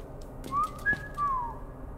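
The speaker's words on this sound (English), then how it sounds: "Okay, I don't like the whistling." Eerie whistled notes inside the indie horror video game Sparky Marky: three short tonal phrases, sliding and wavering, sound over a low murky ambient background with no talking.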